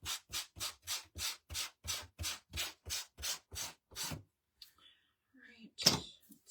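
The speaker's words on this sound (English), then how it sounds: "So let's start sanding the back." Steady back-and-forth rasping strokes of sanding the back of a wooden craft-kit flower pot, about a dozen in an even rhythm, close by, then a pause and a brief scrape.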